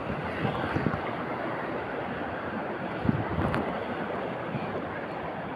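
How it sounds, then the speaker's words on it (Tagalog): Steady roar of rough ocean water and wind, with heavy waves surging and crashing throughout, a few louder thumps standing out, no voices. "pauwi kasi sobrang lakas na talagang alon."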